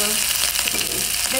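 Rice fries in a pan while being slowly stirred for Chinese fried rice, a steady close sizzle with soft scraping and stirring movements and no speech.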